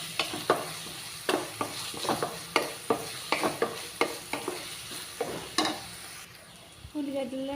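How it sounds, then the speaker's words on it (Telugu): Onions and green chillies frying in a pan, stirred in quick, regular scraping strokes over a constant sizzle, with a brief voice near the end. "మంచి రంగు వచ్చే వరకు వేయించుకోవాలండి ఇవి."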